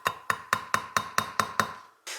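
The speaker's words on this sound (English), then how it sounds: "I take one of these little hammers and just press it on and give it a nice little tap." A small hammer taps a part into place during overland vehicle light assembly, eight crisp, evenly spaced metallic taps that ring brightly and close up, followed by a brief softer knock.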